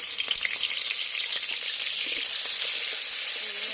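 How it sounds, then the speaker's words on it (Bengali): Shrimp fry in hot oil, a continuous close, bright sizzle with faint crackles and small stirring clicks, steady and unbroken with no talking. "দিয়ে নেড়ে নিব, ভাজি করে নিব চিংড়ি"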